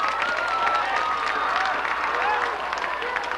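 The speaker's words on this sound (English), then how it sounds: "let's put our hands together and have another round of applause for all of our seniors and their parents" Crowd applause at a 1992 high school football game on parents day, continuous clapping with some cheering and whistle-like cries, heard at a distance across the stands.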